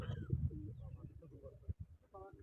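Pigeons coo close by, a low murmuring call with a few higher notes near the end. It lasts only a brief moment.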